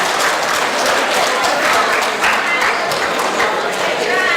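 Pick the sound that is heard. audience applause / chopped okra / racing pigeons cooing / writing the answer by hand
audience applause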